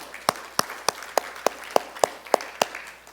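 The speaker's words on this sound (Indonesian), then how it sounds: "sekali tepuk tangan" About nine slow, evenly spaced single claps ring out in a church, crisp and distinct over a quiet background, with no crowd roar behind them.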